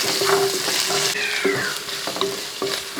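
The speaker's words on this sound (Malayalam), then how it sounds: "ഒരു രണ്ട് പച്ചമുളക് ചെറുതായിട്ട് അരിഞ്ഞ് വെച്ചിരിക്കുന്നത് അതുകൂടെ അങ്ങോട്ട് ഇട്ട് കൊടുക്കുക എല്ലാം കൂടെ ഒന്ന് ഇളക്കി" Curry leaves, ginger-garlic and chopped green chillies frying in a pan for Manjali chicken biryani, with a steady loud sizzle broken by several scraping stirs of a spoon across the pan, and no talking.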